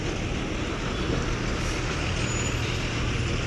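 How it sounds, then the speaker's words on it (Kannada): Ashwamedha Classic non-stop bus on the Mysuru–Hosapete route pulling into Harapanahalli bus stand, a steady loud diesel engine rumble with a brief air-brake hiss, no speech. "ಅಶ್ವಮೇಧ ನಾನ್ ಸ್ಟಾಪ್ ಗಾಡಿ ಬರ್ತದೆ ನೋಡಿ"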